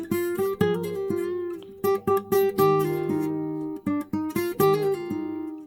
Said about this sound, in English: Next up, we added this guitar riff.